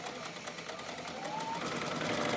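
A sewing machine runs steadily while stitching a fabric bowl coozie, a continuous close mechanical whir that builds slightly toward the end with no talking.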